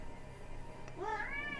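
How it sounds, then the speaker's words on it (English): A single rising-and-falling meow from a pet cat, clear and fairly close, over a faint steady room hum. "And that's my cat."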